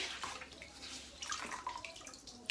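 Water wrung from a cleaning cloth soaked in baking-soda water while a refrigerator is cleaned: faint, close trickling and dripping that runs steadily for a couple of seconds.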